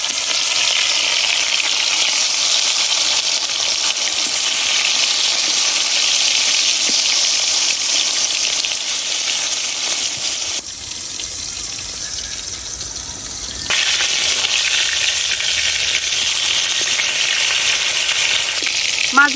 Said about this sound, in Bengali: তেল গরম হয়ে গেছে, এখন আমি মাছগুলা ভাজিয়ে নিলাম।